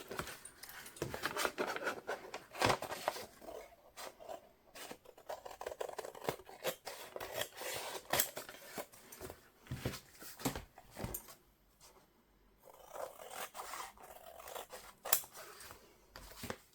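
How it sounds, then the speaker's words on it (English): Scissors snip around paper edges while a no-sew junk journal is assembled, close and quiet, in irregular bursts of short cutting clicks and rustling paper, with no talking. "Let's first cut around those edges."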